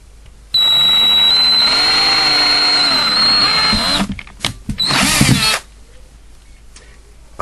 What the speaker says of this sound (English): Okay, let's drill it.